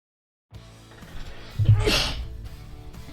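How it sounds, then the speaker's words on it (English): A single short sneeze bursts out over faint background noise, sharp and close. "I sneezed."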